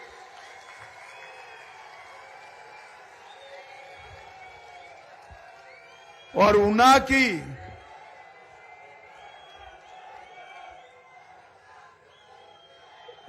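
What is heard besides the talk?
rally crowd applauding and cheering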